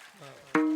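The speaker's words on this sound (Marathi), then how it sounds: "वा हा झाला यांच्या टाळीचा आवाज." Women in a Marathi kirtan audience clap loudly together, a sudden dense burst of applause breaking in near the end after a sustained musical tone, then ringing on with a held harmonium-like note.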